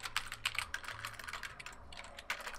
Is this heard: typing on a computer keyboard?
yes